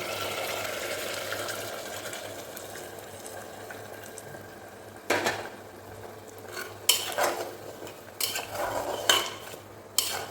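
Hot water poured into a pot of spiced meat set for pressure cooking in a Bengali home kitchen: a soft background hum, then splashing pours and clattering pot and utensil knocks in the second half, close by with no talk.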